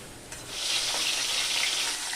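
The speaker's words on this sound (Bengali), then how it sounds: "আজকে রেসিপি হবে সরিষার তেলে" Rohu fish frying in mustard oil gives a bright, steady sizzle that swells up after a brief quiet start and holds close and constant, with no talking.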